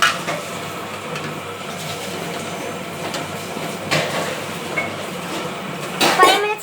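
A lid is set down on a container of idli and dosa batter, landing with a clattering clunk near the end after a quieter scrape partway through, with no talk.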